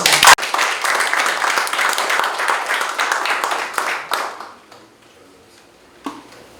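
An audience at an exhibition opening claps loudly and steadily for several seconds, then the applause tapers off into near silence, broken by one short sound near the end.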